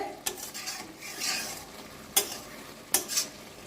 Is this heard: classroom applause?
no